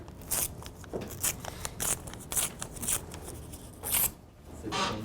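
Scissors cutting paper again and again, a run of crisp snips spaced about half a second apart, close and fairly quiet with soft rustling of the sheet between cuts.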